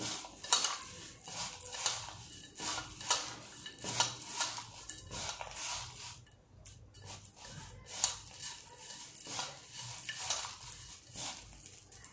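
Dry bhel of puffed rice is tossed by hand with about two spoons of oil, making close, crisp rustling and crackling bursts in quick irregular handfuls, with a brief quiet pause midway.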